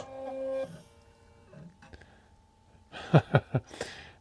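An automatic powder scale dispenses a 59.5-grain charge while reloading 280 Ackley Improved; a steady motor whir and hum run first, then a few sharp, close clicks and thumps come near the end.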